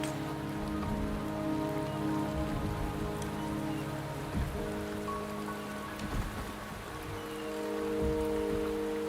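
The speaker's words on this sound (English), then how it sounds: "The rain is subsiding, and the sky will soon clear." Rain patters steadily on surfaces in the Wuthering Waves video game, a close, dense drip texture with scattered heavier drops, layered over sustained tonal music and a faint low rumble.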